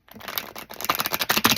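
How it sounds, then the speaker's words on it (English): Tarot cards riffle and slap together in quick, uneven bursts of crisp papery clatter, close by and growing busier toward the end, with no talk over them. "There we go. That's a good shuffle."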